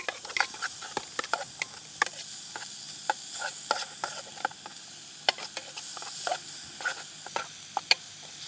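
Shallots frying in a pan, steady close sizzle broken by repeated sharp crackles and stirring scrapes at irregular intervals, with no talking.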